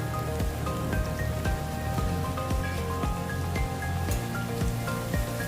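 Capsicum and carrot sauteing over a high flame for street-style veg noodles, a steady dense sizzle with crackling pops that holds loud and even throughout, with no talk.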